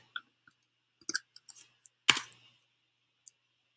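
Computer keyboard keys give sparse, sharp clicks, a few isolated taps and one louder clack, close by in an otherwise quiet room, with no talk.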